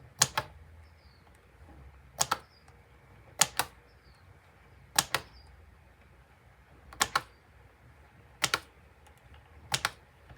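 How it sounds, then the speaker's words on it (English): Sharp paired clicks of scissors snipping planner coil loops repeat at steady intervals, about every one to two seconds, crisp and close against a quiet background. "putting my scissors between the loops,"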